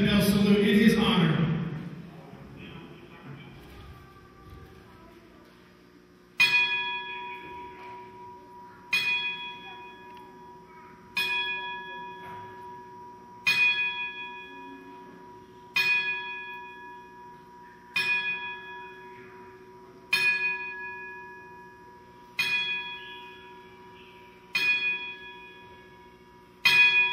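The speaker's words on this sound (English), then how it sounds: "we'd like to do a 10-bell salute in his honor" A voice speaks briefly at a wrestling event, then a single bell is struck ten times as a ten-bell salute, at slow, even intervals, each ring left to fade before the next.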